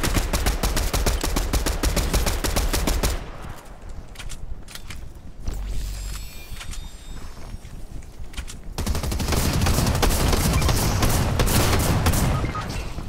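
Sustained automatic gunfire in Fortnite, loud and close, with continuous rattling volleys that ease briefly in the middle before the shooting picks up again heavily.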